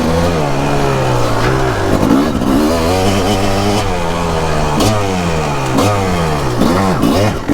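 A 2004 Kawasaki KX 250 two-stroke dirt bike on tight, technical terrain, its engine loud and close, revving up and down in rapid surges with rising and falling pitch throughout, no talk.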